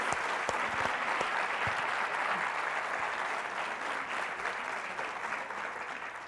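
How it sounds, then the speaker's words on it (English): Sustained audience applause for an author at an evening book-talk event, steady and dense across the whole stretch with no voices over it. "Can we just give a round of applause for Victoria Christopher Murray, please?"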